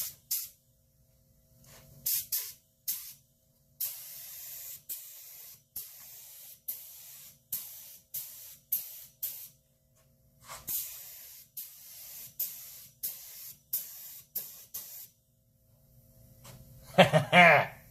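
Gear Best W 71 spray gun firing a test spray in a long run of short hissing bursts, each a second or so, separated by brief pauses, loud and close, ending in a stronger, rougher burst.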